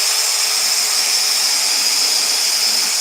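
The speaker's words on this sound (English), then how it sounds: "Now it's quite important that we keep this drill bit up nice and straight as we go through." A power drill runs steadily, boring holes through a wooden Christmas tree decoration cut on a scroll saw, with a constant high-pitched whine and no pauses.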